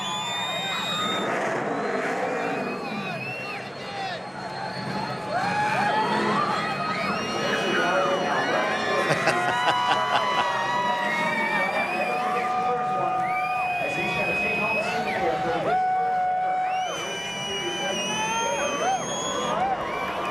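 Two cups of water run steadily into a cooking pot for a vegan rice dish, a soft continuous splashing stream with a few clanks and knocks near the end.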